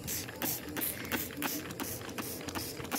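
Bursts of a handheld spray bottle misting alcohol onto succulent rosettes during night-time pest treatment for mealybugs and aphids, with repeated short hissing sprays in a steady rhythm close by.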